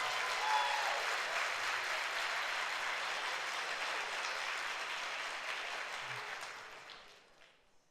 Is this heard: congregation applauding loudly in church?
yes